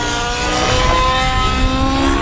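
An OS Max GT15HZ gasoline engine with a power boost pipe runs steadily on a Fury 55 RC helicopter, a continuous close, loud droning buzz with no whine, alone without voices.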